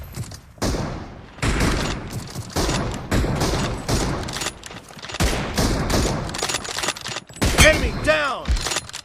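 In the mobile shooter BGMI, an M24 sniper rifle fires loud booming shots in an arena match, mixed with dense bursts of other gunfire. Game voice callouts cut in between the shots.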